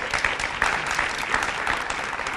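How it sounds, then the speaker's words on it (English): Dense, steady applause from an audience honoring speakers at a county summer launch event, continuous clapping throughout with no pauses. "Can we give all of our speakers another round of applause?"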